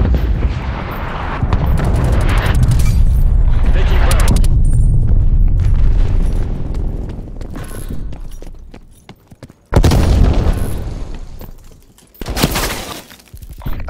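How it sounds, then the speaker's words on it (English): Artillery strike in the video game Call of Duty: Black Ops Cold War, with heavy sustained rumbling blasts, crashing debris and a few renewed booms later, loud and close. "Artillery inbound."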